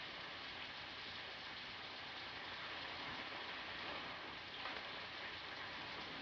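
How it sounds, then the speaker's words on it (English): Steady rain falls throughout, a dense hiss of drops hitting surfaces, fairly close and constant with no voices. "It's raining."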